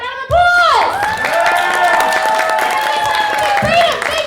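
Live comedy show audience at a London venue giving a round of applause, a broad crowd roar with clapping and cheering building after a loud burst, with voices shouting through it.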